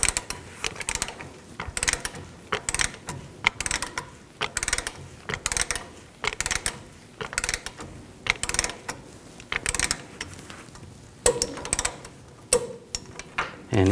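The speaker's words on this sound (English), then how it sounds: "And tighten this down to 44 foot-pounds." A ratchet wrench tightens a lower ball joint nut on a 2007-2014 GMC Sierra 3500 HD, giving rapid bursts of clicking pawl strokes that repeat in short rhythmic runs with brief pauses between.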